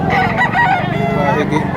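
A rooster, a Kelso gamecock at a poultry market in Padre Garcia, crows loudly and close, a long strained call with harmonic tones, sustained across the clip.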